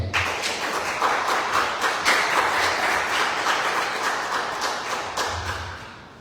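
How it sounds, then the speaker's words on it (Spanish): A church congregation gives a sustained round of applause, with dense, crisp clapping at a steady level that slowly thins and fades toward the end, and a few low thuds underneath. "Dale un aplauso al Señor"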